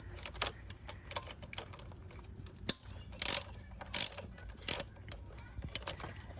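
A ratchet cranks a 10 mm bolt loose from an intake manifold on a 2003 Mitsubishi Eclipse GT's 6G74 engine, giving close, quick clicking runs interspersed with several sharp, louder metallic ratchet bursts.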